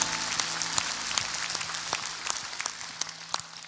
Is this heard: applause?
yes